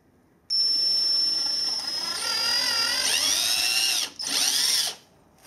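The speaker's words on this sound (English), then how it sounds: "What I'm gonna do is take a drill, drill the holes in the center with a 1/8 of the bit diameter." Power drill boring holes in a Lexus for mounting mud flaps. A loud, steady whine runs for several seconds and shifts pitch under load, stops briefly, then runs again and winds down.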